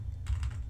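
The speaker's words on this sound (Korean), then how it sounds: "확인해 보라는 의미로 이렇게 한번 타이핑을 친 겁니다" A computer keyboard is struck a couple of times, giving short, soft clicks over a low steady hum.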